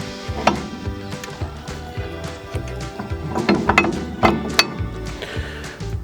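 Mechanical lock on a Tubeline TL360 bale processing machine engaging, heard as a series of close metallic clanks and ratcheting clicks over a low machine hum, with the sharpest knocks in the middle.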